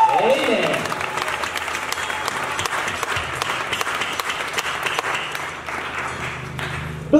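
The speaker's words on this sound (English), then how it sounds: "Give Jesus a big clap." Church congregation at a Dominion City service breaks into steady, dense applause that fills the room and holds evenly for several seconds before tailing off at the end.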